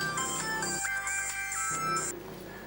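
A mobile phone ringtone plays loud and close, a bright repeating electronic melody in short phrases that cuts off abruptly near the end.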